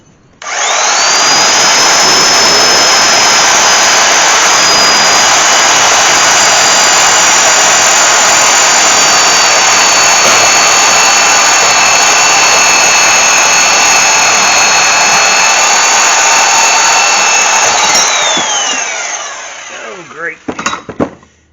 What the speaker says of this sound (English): we're going to cut right along this edge, and that way I'll have this whole piece to weld in on the other one